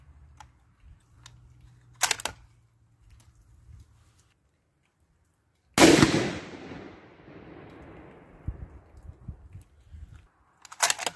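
Bergara HMR rifle in 6.5 PRC firing hand loads: one loud, sharp shot stands out, with a long tail rolling away afterward, amid quiet outdoor stillness and a few smaller clicks and knocks.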